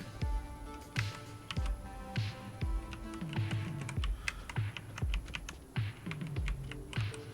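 Keys clack on a computer keyboard, mostly arrow keys pressed during an RPG wrestling game, in an irregular run of close, crisp taps with game music quietly underneath.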